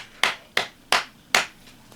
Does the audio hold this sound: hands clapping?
yes